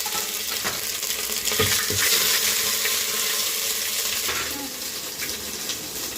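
Ginger garlic paste frying in hot oil in a pan gives a loud, steady crackling sizzle that runs unbroken throughout, with a few brief stirring clinks and no talking.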